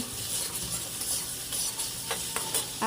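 Thinly sliced potatoes stir-fry in a pan while a utensil stirs them, giving a steady low sizzle with occasional scraping clicks, close and with no talk.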